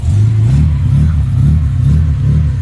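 A Ford AU Falcon with a cammed engine and Stage 4 chip revs loudly up close, its lumpy, uneven idle loping and surging in a choppy rhythm throughout.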